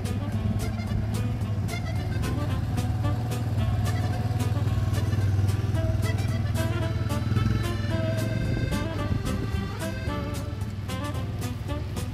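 A shepherd rides a motorized quad bike among sheep, its engine droning steadily while the flock bleats repeatedly nearby.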